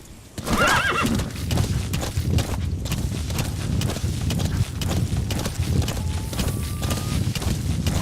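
A horse in Metal Gear Solid 5 gives a loud, shrill whinny, then its hooves clop steadily and closely in a quick rhythm that keeps going to the end.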